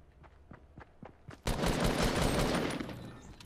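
A gun fires in Fortnite Battle Royale. A few light ticks give way to a sudden, loud, sustained burst of automatic fire that rolls on for about two seconds.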